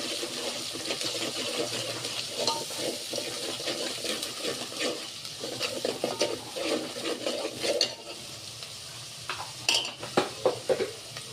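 Ginger garlic paste fries in a pan for a masala veg patvadi curry while a spoon stirs it, giving a steady sizzle broken by scraping and clinking against the pan. The stirring turns more intermittent toward the end, and nobody speaks.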